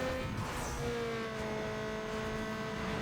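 A racing car's engine in Need for Speed Underground 2 runs in fifth gear at about 270 km/h on a highway track, a steady loud high-pitched whine that holds at full speed throughout.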